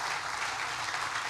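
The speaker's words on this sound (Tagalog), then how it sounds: "Asan yung palakpak para sa Lord?" Congregation clapping during a church sermon, a continuous even patter of many hands, moderately distant and soft, with no speech over it.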